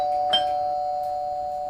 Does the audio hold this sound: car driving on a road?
no